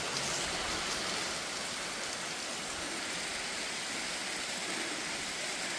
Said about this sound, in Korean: 요 폭포수 같이 보이네요